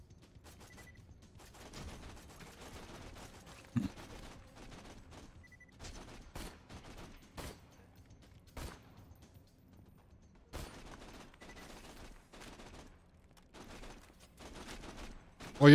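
Gunfire shooting through a wall in the video game Borderlands 2: scattered sharp gunshot cracks at irregular intervals over a low, quiet background hum, with a few louder bursts near the end.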